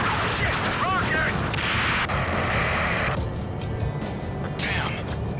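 Loud explosions and gunfire from a rocket attack in the Ace Combat 7 flight combat game, with a heavy dense roar throughout, crackling blasts and a rising burst near the end.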